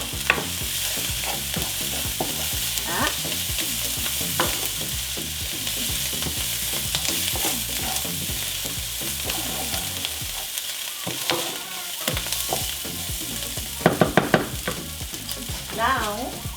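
Ingredients are stirred through quesadilla filling sizzling in a pan, with cilantro going in; steady close frying hiss carries scraping spoon strokes throughout, and a few sharp clacks land near the end.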